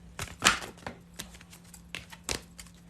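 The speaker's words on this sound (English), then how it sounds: "We're going to shuffle some more." A deck of tarot cards is shuffled by hand, producing a quick series of crisp, papery taps and riffles in irregular bursts, close up and without talking.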